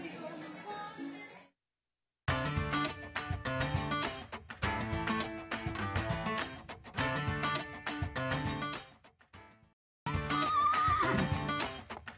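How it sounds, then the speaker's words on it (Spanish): Horses whinny and neigh repeatedly at a night horse parade at the Expo San Carlos 2023 livestock fair, with loud bursts broken by short silent gaps. "vamos a ir a un corte comercial y ya regresamos para continuar viendo este lindo desfile de caballos acá"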